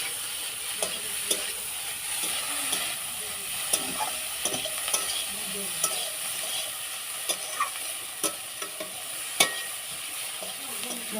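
A pan of sour fish roe dish, just splashed with lemon juice, is stirred: a soft steady sizzle runs under scattered scraping clicks of the spoon, close by and without speech.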